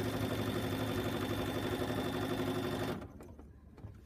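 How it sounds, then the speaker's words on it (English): A sewing machine at medium speed stitches along a quilting ruler, a close, steady humming whir with a buzzing drone for about three seconds, then stops, leaving faint handling taps. "I have my machine set to about medium on the speed. And I'm gonna go ahead and just stitch down that line."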